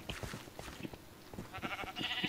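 Sheep bleating in the Minecraft video game, several short repeated bleats rising over brief game sounds, with a high hissing burst toward the end, fairly quiet overall.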